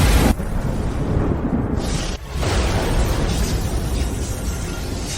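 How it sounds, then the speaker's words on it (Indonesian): A lightning strike sound effect: a loud, sustained crackling boom filling the clip, with a brief dip partway through before the rumbling roar resumes. "Panggil petir langit."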